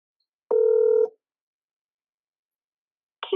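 A phone call placed through an Amazon Connect contact center softphone: a single steady tone rings out for about half a second, followed by silence, then another tone begins at the very end, heard clearly with no talking.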